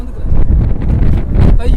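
Strong wind blusters across the open top deck of a cruise ship, a loud, close roar buffeting the microphone for the whole stretch, with voices faintly underneath.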